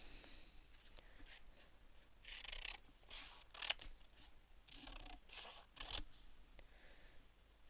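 Scissors roughly cutting out paper shapes for a layered card-making craft, heard as quiet, close snips and rustles in scattered bursts with pauses between.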